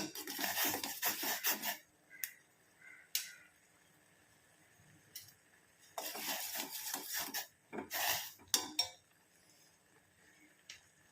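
A spoon scrapes and clinks against a pot while stirring sugar in, several short bursts separated by quiet pauses.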